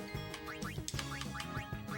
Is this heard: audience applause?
no